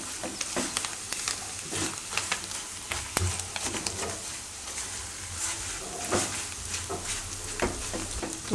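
Sabudana khichdi with paneer, sugar and fresh coriander being stirred in a pan, a steady close sizzle broken by repeated scraping and clinking strokes of the spoon, with no talking.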